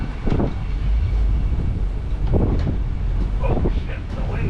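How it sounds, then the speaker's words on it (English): Strong wind buffets the microphone on the water aboard a boat, a constant low roaring rumble with gusty swells, while people talk and shout over it. "the wind has caught us"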